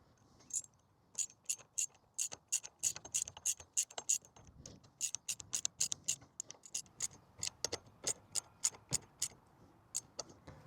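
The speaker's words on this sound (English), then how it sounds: "Can't tighten them that much, so we're going to have to use the ratchet." A 12 mm ratchet tightens a GPS mount bolt on a 2025 Honda CRF300L Rally, producing rapid sharp clicking bursts in uneven runs, close and crisp over a quiet background.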